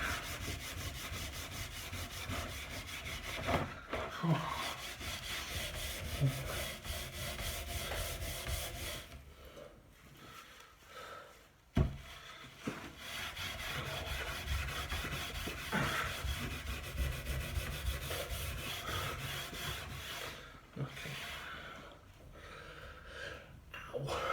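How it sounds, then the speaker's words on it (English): Steady rough rubbing of a scrubbing pad or brush on the wooden surface of a small bookcase, continuing with short pauses and a few sharper knocks, fairly close and moderately loud, with no voices. "I'll give it a good scrubbing before I reapply."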